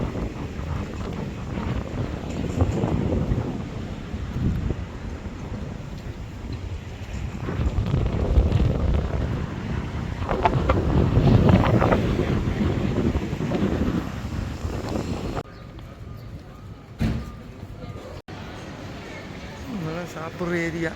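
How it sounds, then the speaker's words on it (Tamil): Strong wind buffets the microphone by the sea in Heraklion, gusty rumbles rising and falling for about fifteen seconds, then easing into quieter stretches with brief bumps. "வெயிலண்டாலும் நல்ல காற்றடிக்குது."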